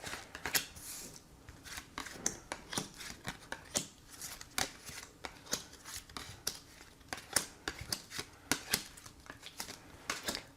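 A deck of tarot cards is shuffled and cards are drawn and laid out, a quick run of crisp close-up flicks, snaps and slides coming in uneven bursts for several seconds.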